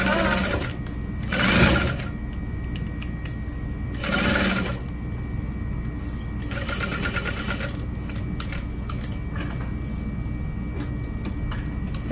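A sewing machine stitches a barrel bag at a 4.5 stitch length, a fast, steady mechanical whir running nearly nonstop at close range, with brief louder bursts and pauses as it back-stitches and pivots at corners.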